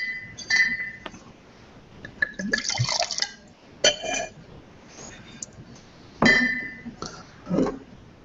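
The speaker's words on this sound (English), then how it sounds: "let's get a little new pour into here" Red Cabernet wine is poured into a glass at a tasting, with soft liquid trickles, drips and several bright glass clinks spread across the stretch, close and fairly quiet.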